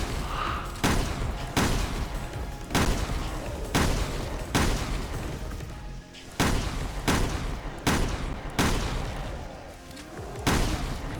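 Chicago Typewriter submachine gun firing in a video game raid mode, repeated loud close bursts of rapid shots with short pauses between them, faint game noise underneath.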